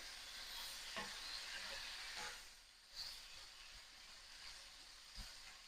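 Beef and broccoli stir-fry with ginger sizzles in a pan, a continuous quiet hiss broken by a few sharp clatters as the food is tossed and stirred.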